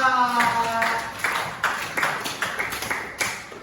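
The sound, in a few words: classroom applause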